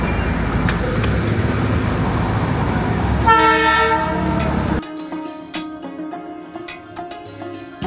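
A Darjeeling toy train horn sounds loudly for over a second amid road and engine rumble on a mountain road, followed by quieter rattling rail noise.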